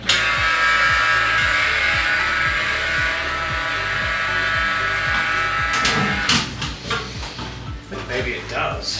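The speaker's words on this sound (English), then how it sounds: "my fan sounds a bit funny" A workshop fan hums and whirs steadily with a slightly odd, uneven tone, running close by under a voice, with a few knocks and rustles toward the end.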